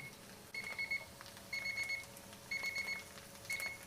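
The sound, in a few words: kitchen timer alarm ringing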